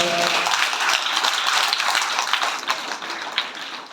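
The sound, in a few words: applause, clapping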